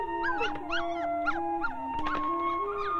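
A puppy whimpers and yelps in a string of high, wavering cries with a few rising howl-like notes, close and continuous with no talking.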